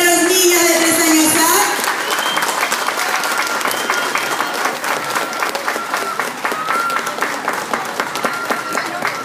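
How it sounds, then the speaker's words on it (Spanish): A loud voice calls out briefly at the start of a children's performance of The Pied Piper of Hamelin, then audience applause for the three-year-olds follows, with crisp, dense clapping that carries on steadily for several seconds. "¡Aplausos para los niños de 3 años!"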